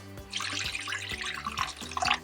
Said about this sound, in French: Vous versez vraiment de l'eau juste de côté.